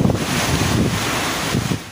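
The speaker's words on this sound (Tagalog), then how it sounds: "Sinabayan ng hampas ng hangin ang malakas na ulan sa Dinapigue, Isabela." Strong typhoon wind gusts buffet the microphone amid heavy rain in Dinapigue, Isabela, where Typhoon Paolo made landfall; a loud, continuous roar with rising and falling gusts, no talking.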